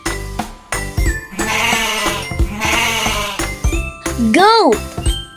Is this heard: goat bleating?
yes